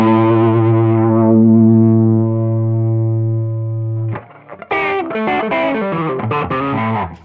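An electric guitar through a Digitech DF-7 Distortion Factory pedal on its Ibanez TS9 setting: a long sustained overdriven chord rings out, then a gritty run of picked notes and chords.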